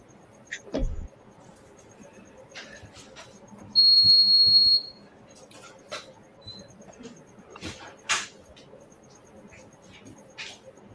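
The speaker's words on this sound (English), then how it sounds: "You hear that beep going off?" A single high electronic beep sounds for about a second amid quiet room noise, with a few clicks and rustles around it.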